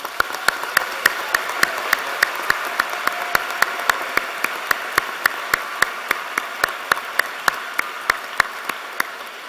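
An audience applauds learners at a graduation ceremony, a steady wash of clapping from many hands with a few sharper individual claps standing out, sustained without talk.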